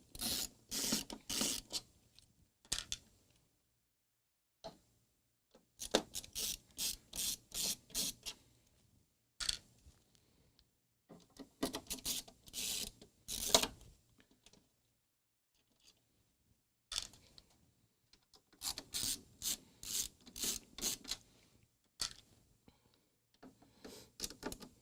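Casing of a Data General Dasher terminal being opened: repeated bursts of rasping, scraping plastic-and-metal handling in clustered rhythmic runs separated by short pauses, fairly close and moderate in level, with no talking.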